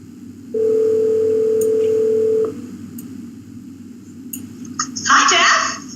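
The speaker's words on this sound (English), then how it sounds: "I'm going to tap on the phone app, and I'm going to call Deidre, who's a colleague on the watch team." An Apple Watch placing a phone call over cellular plays a steady electronic calling tone for about two seconds in a large theater venue, followed by clicks and a burst of brighter noise as the call connects.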